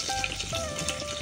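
Masala spices sizzle and fry in a cooker pot, a steady close crackle and hiss with faint stirring throughout.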